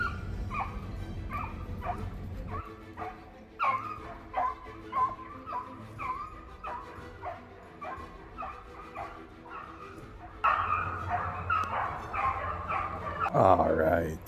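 Beagles bay and yelp in repeated excited bursts while running rabbits outdoors, several dogs calling over one another at middle distance, with someone talking at times beneath the chorus.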